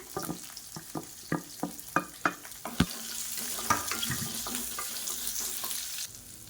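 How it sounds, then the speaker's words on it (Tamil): Chopped onions and small shallots sautéing in a pan for a cauliflower curry, with a series of sharp scraping stirs at the start giving way to a steady close hiss of frying, no talk. "இப்போ வெங்காயம் லேசாக வதங்கிடுச்சு"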